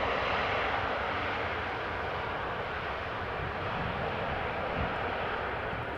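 KLM airliner landing at Amsterdam Schiphol Airport, a steady broad roar of jet engines and rushing air, distant and continuous, with no talk.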